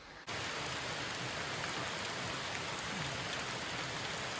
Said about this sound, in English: Passing shower.